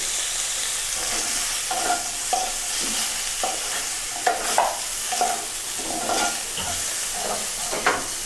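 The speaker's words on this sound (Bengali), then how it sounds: "আমি ফুলকপিটা ভেজে নেব।" Cauliflower frying in hot oil in a pan for a cauliflower and snakehead fish curry: a steady, loud sizzle throughout, broken by repeated scraping, stirring knocks at an irregular rhythm, with no talking.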